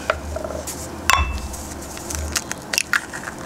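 Eggs cracked on a hard edge and dropped into a bowl for scrambled eggs, with a couple of sharp, brittle cracks and light clinks against a quiet kitchen background, close by.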